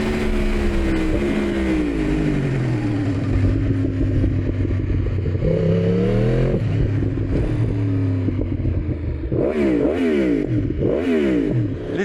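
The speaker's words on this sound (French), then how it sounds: "Je roule pas excessivement vite, mais vu que la moto est très puissante, elle est coupleuse" A 2024 Yamaha R1 sport motorcycle engine roars up close while riding, holding a loud steady drone with rising and falling pitch as it shifts, then several quick sharp revs near the end.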